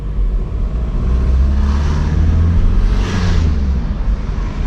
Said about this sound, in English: That was a good gear change, felt nice.